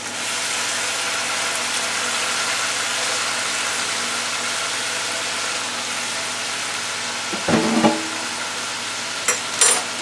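Browned chicken pieces sizzle and fry steadily in a hot pan, a continuous close crackle with a brief louder clatter of stirring or handling near the end.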